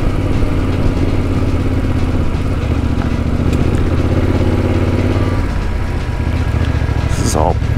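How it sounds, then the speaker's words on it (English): A Yamaha Tenere adventure motorcycle crawls up a dirt hill, its engine a steady low chugging rumble at close range, with a brief rising squeal near the end. "let's just crawl up this hill"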